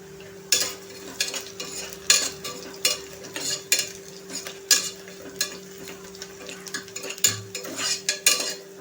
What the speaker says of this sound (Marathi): हे पहा, कांदा छान असा फ्राय झाला आपला। तर आपण इथे टाकूया ठेचून घेतलेला लसूण